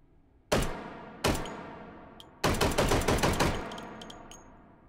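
Gunfire in the VR shooter Hot Dogs, Horseshoes & Hand Grenades: two loud, close single shots, then a rapid burst of about seven cracks, each with a short ringing tail and faint metallic clicks after.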